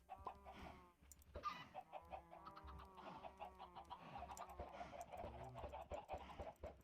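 Minecraft chickens clucking repeatedly in short, uneven bursts with no one talking, set over a steady low background hum from the game.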